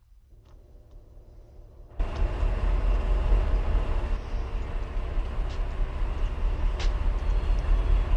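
A heavy video game train rumbles loudly and steadily after a quiet start, with a deep low-end drone and faint rattling on top.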